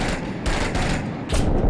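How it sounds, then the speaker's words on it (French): Gunfire in the realistic combat game Six Days in Fallujah, several loud, close bursts of shots in a ragged rhythm, each a harsh broadband crack, with no speech over them. "Ça tire, contact."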